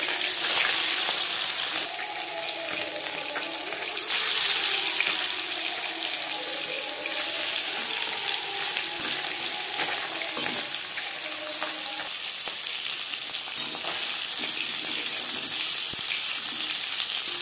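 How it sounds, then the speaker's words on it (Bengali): Marinated Bhola sea fish frying in hot refined oil in a pan, a steady close sizzle and hiss running throughout with small crackles and shifts, no voices. "4-5 চামচ রিফাইন্ড অয়েল গরম করে নিয়েছি। দিয়ে দিলাম ম্যারিনেট করে রাখা মাছ।"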